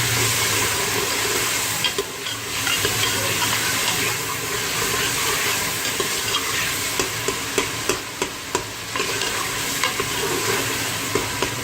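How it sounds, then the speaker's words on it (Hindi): Chopped tomatoes frying in a pan for mash daal, a steady loud sizzle running throughout with occasional stirring scrapes and clicks of a utensil against the pan. "टमाटर डाल दिए और अब टमाटरों को करेंगे फ्राई"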